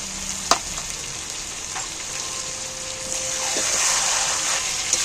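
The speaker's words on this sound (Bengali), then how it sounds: "মশলা আদা বাটা সব মশলাটাকে মিক্স করে একসাথে কষতে থাকি" Chicken fries in a pan with ginger paste and meat masala, giving a steady close sizzle with a faint stir scrape and one sharp clink near the start.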